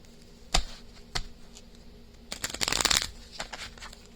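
Deck of cards being shuffled for a tarot-style reading: two sharp single snaps, then a dense riffling burst that lasts about a second, with a few trailing flicks, close and quiet.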